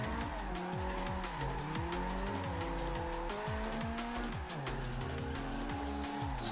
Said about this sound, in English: We can keep a sustained drift around the roundabout.